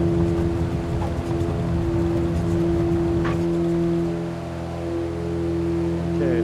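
Cessna 404 twin turbocharged piston engines in a flight simulator game, a steady droning tone with layered harmonic hums that shifts slightly in pitch partway through, running alone without talk.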